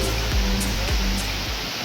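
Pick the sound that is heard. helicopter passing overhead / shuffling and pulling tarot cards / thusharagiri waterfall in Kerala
thusharagiri waterfall in Kerala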